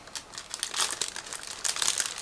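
Sealed plastic bag holding parts of a Miniart 1/35 T-55 tank model kit being torn open, a close, quiet run of crinkling and rustling plastic in two short bursts.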